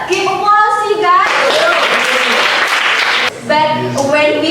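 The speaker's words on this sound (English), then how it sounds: "Give applause, you guys." A class claps together in steady applause, loud and close, with a young voice speaking briefly before and after it.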